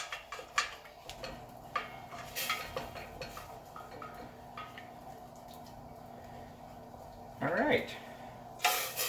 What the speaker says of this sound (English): after we deglaze this, which is basically fancy speak for clean the pot out with a spoon and a liquid